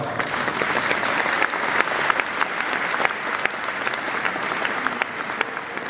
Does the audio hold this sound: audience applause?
yes